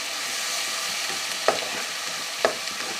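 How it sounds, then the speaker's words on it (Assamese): Onion and garlic paste frying in a kadai over whole cumin seeds, a continuous sizzle broken by two sharp scraping stirs, no voices. "কেঁচা গোন্ধ যোৱালৈকে অকনমান ভাজি লম"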